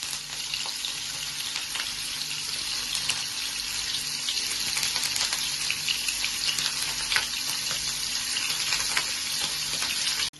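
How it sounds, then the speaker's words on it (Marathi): Paneer pieces fry in hot oil on a stovetop as part of a Maharashtrian spicy thecha paneer dish, giving a steady, dense, close sizzle that runs unbroken throughout with no voices. "ह्याच्यामध्ये आपण ही पनीरचे तुकडे टाकून फ्राय करू"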